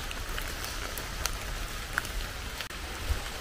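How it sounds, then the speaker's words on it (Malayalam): Light morning rain drizzles outdoors as a soft, steady hiss with a few faint drop ticks, fairly quiet and with no talk. "രാവിലെ ചെറിയ രീതിയിൽ മഴ ചാറി തുടങ്ങിയിട്ടുണ്ട്."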